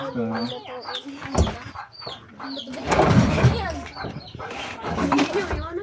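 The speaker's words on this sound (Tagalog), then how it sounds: "Anong klaseng manok to?" A native Filipino chicken clucks and squawks nearby while people talk over it in a lively back-and-forth.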